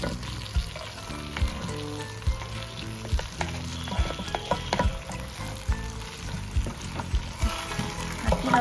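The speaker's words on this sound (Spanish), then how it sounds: "Aquí lo vamos a dejar para que se empiece a freír la cebolla junto con el ajo" Onion and garlic fry alongside seared chicken in a pot for a chicken stew, a steady close sizzle with scattered pops and light stirring clatter running throughout, no voices.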